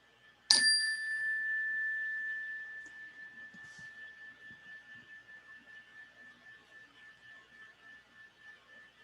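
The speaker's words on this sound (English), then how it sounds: "Let me ring the bell to start our practice together." A meditation bell rings out once, clear and bright, then its single sustained tone slowly fades and lingers for several seconds in a quiet room.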